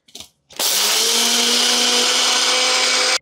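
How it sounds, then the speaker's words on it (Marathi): A mixer grinder whirs steadily as it grinds sugar into fine powder for malai ladoo, starting abruptly after a brief knock and running loud and continuous to the end. "आता साखर घालायची आणि एकदम आहे ना बारीक दळून घ्यायची."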